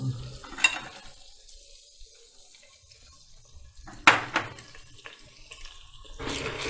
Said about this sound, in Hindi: लहसुन अदरक भी हमारा जो है वो अच्छे से भून चुका है